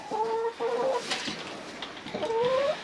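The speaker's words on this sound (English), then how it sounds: "These chickens always get mad when they have to stay up because they don't like to be cooped up." Hens clucking inside a coop on a snowy homestead, several close, loud bursts of squawking clucks with a short lull in the middle, no talking.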